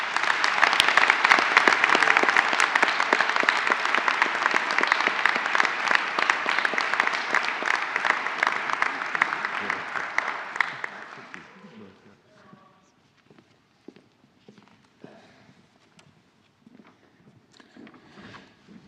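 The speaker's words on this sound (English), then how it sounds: "Please join me in a round of applause" A large crowd at a 2022 design graduation ceremony in Melbourne applauds loudly and steadily for about eleven seconds, then the clapping fades into a quiet room with scattered faint sounds.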